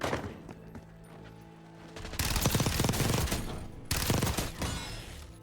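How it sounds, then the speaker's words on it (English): Video game gunfire in Warzone 2.0 on Rebirth Island: two loud, dense bursts of rapid shots, the first running about two seconds and the second shorter, over a quieter bed of distant shooting and game ambience. "Where's that guy shooting at?"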